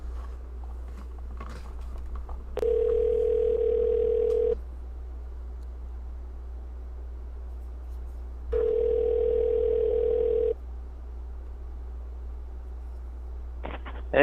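Steady telephone dial tone on a radio sports call-in show as a caller is put through, sounding in two separate bursts of about two seconds each over a constant low hum, with no voices.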